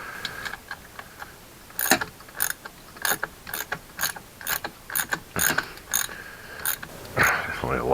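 A hand ratchet clicks in repeated short bursts while tightening the motor mounts on a Bikeberry BBR Tuning motorized bicycle, close and crisp with brief pauses between strokes.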